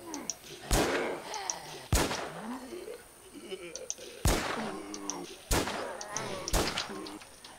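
Five heavy gunshots boom at irregular intervals in the video game War Z, each a sharp loud blast with a ringing tail, while voices talk in between.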